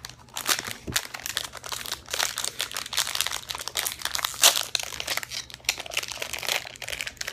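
Plastic packaging of a Nautilus tuna spread snack crinkles and crackles as it is opened, a busy run of close, moderately quiet rustles and small snaps with no talking.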